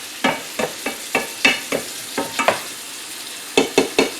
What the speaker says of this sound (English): So I'm just going to brown this up.